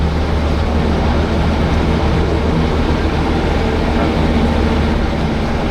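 Local commuter train rolling past in Indonesia, a steady loud rumble of wheels and carriages filling the whole stretch without letting up.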